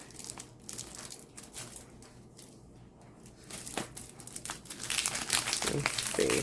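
Paper cards and their plastic packaging crinkle and rustle as the set is opened, in a run of close, uneven crackles that grow louder and denser toward the end.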